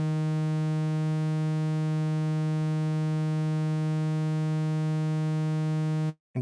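A steady synthesizer tone from Zebralette 3 with spectral distortion applied, a bright harmonic drone holding one pitch with faint shimmering shifts in its upper overtones, sounding alone until it cuts off abruptly at the end.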